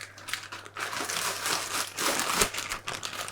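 A plastic bag half full of compost is folded over by hand, giving a continuous close crinkling and crumpling that swells and fades for a few seconds with a sharper rustle near the end.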